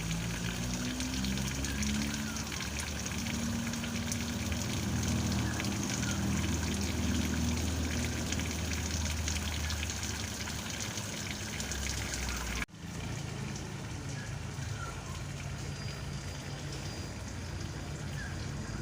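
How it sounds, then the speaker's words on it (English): Water flowing steadily through an external household water filter during backwashing, a continuous rushing trickle close by, with a brief break near the end before the flow resumes slightly quieter. "The water has become clear again and is doing its job of cleaning the internal filter."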